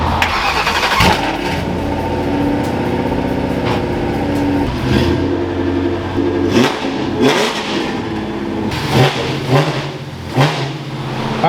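A Ford Crown Victoria drift car's freshly installed engine cranks, catches and settles into a loud, rough idle close by, then revs up in several sharp, punchy bursts.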